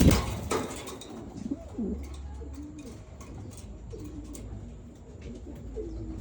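Soft, repeated racing pigeon coos murmur in the background at night, low and throaty, amid faint ambient rustling.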